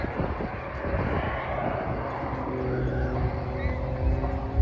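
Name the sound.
airshow aircraft engine with two mini jets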